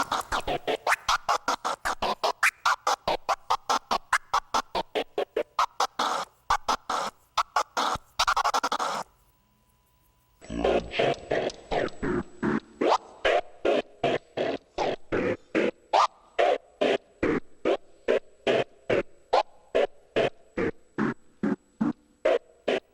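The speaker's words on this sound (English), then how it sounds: "demonstrate how the scratch sounds a cappella" Rapid rhythmic record scratching, choppy bursts cut on and off, a brief pause midway, then more scratches over a steady tone, no voices.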